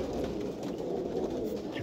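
Several pigeons, including white birds with black-tipped markings, coo in a continuous low murmur close by at a bird sale in Jhelum, with no voices over it.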